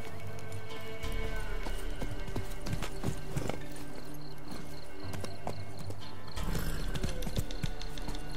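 Horse hooves clip-clopping at a gallop in The Witcher 3, steady rhythmic hoofbeats up close with a brief whinny and faint background ambience, pausing briefly partway through.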